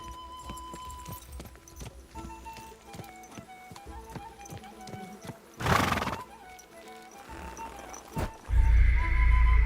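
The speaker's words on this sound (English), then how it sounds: "make them hooves ring out!" Horse hooves clop at an even walking pace in the game Kingdom Come: Deliverance II, with a loud whinny partway through and a louder rumbling burst near the end.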